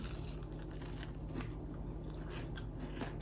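Crunchy bites into a crispy golden brown sweet potato croquette, close crackling crunches and soft chewing at an irregular pace with no talking.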